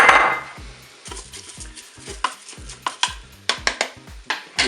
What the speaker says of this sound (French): Maintenant, je vais ajouter mon riz.